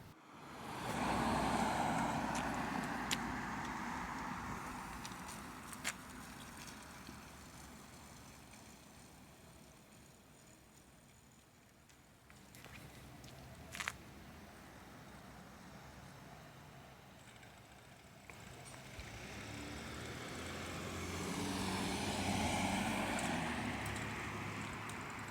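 A homemade Warrior trike ridden outdoors in daylight, its engine droning and swelling as it pulls away and returns, fading to a softer hum in the middle with wind rushing across the microphone.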